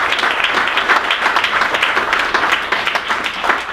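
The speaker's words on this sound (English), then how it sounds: "So give yourself a round of applause for just being here today." An audience at a Protecting our Sacred Waters community gathering applauds steadily, a dense wash of many hands clapping together, loud and sustained with no pause.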